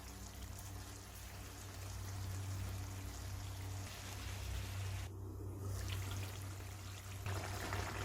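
Water is poured into a pan of frying masala for chicken mandi, a steady pouring and bubbling wash that briefly swells louder, then settles into a continuous close hiss.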